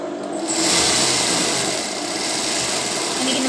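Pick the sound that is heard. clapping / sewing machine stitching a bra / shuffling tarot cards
sewing machine stitching a bra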